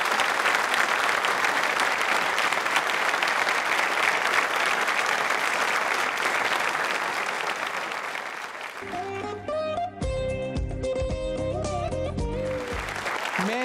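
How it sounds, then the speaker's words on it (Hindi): A large audience at a Yoga Day quiz show breaks into loud, sustained applause that runs for about nine seconds, then gives way to music with the clapping fading underneath. "आपके लिए तालियां जोरों से बजाइए एक बार।"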